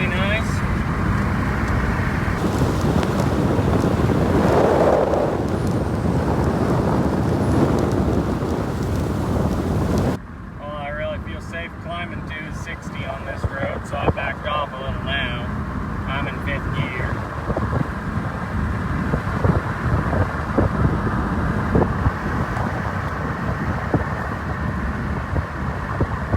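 An old car bought for ten dollars cruising in fifth gear at about 40 mph and 1800 RPM, heavy wind buffeting the microphone at first, then a steadier low engine drone and road noise from inside.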